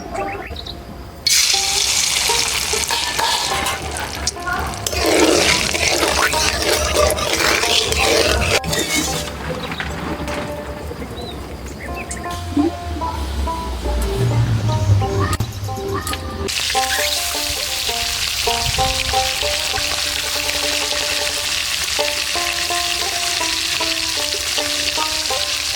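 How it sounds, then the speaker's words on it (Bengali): Fish sizzle and spatter as they fry in hot mustard oil with salt in a wok, loud and close, while music-like tones join in the later half. "মাছগুলো এবার ভেজে নেবো। কড়াই দিয়ে দিচ্ছি সরষের তেল।"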